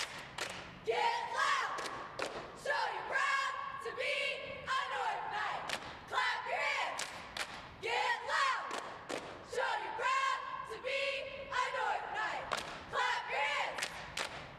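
A high school cheer team chants in rhythm with sharp claps and stomps, with crowd cheering on a television studio set. The shouted phrases repeat in loud, punchy bursts over roughly fifteen seconds.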